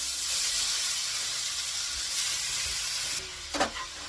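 Grated carrot fries in ghee for carrot halva, a steady soft sizzle and hiss throughout, with a few spoon scrapes near the end as it is stirred.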